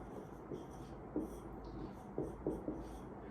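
A formula is being written on a board, heard as quiet, sparse scratching strokes and taps in short bursts, faint and close in a quiet room.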